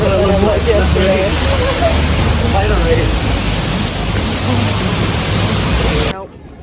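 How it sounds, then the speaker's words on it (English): Heavy rain pours down steadily at a New York concert outing, a loud continuous hiss filling the whole clip under voices and crowd chatter, cutting off abruptly near the end. "It's raining so much harder than it was yesterday."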